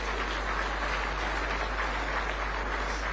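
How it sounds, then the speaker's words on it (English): Sustained applause from an audience at a prayer breakfast in Nairobi, honoring a keynote speaker: a dense, even wash of many hands clapping, steady and unbroken throughout. "Clap for him."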